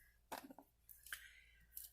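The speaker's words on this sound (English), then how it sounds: "where else do I need to cut?" Scissors snipping through the packaging of a perfume delivery, two or three sharp close crisp cuts in quick succession, quiet and without talk.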